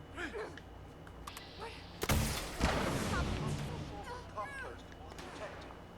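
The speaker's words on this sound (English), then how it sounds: "I don't know if they're shooting me or not. They are." Enemy gunfire aimed at the player in Fallout 76, a couple of sharp loud bursts in the middle with a rumbling tail, surrounded by other game noises and a voice talking over it.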